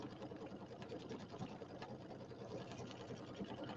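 A sewing machine runs steadily while quilting a Pineapple Seas quilt, giving a continuous, fairly loud mechanical whir with a busy, rapid stitching texture that holds unbroken throughout.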